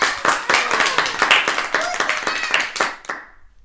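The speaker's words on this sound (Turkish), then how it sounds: "Cesur binicilerimiz Can, Sidre ve Lara'ya kocaman bir alkış." Applause for toy circus riders in a children's Playmobil play circus, a few hands clapping in distinct rhythmic bursts close by, ending abruptly.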